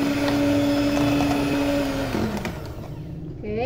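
An electric hand mixer whirs steadily through cake batter as whole eggs and a yolk are beaten in, a constant close motor hum that shifts in pitch and briefly changes tone near the end.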